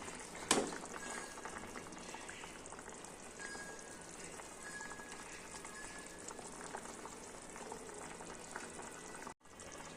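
Curry gravy at a rolling boil, a steady low bubbling and popping throughout, with a single sharp splash near the start as paneer pieces drop in.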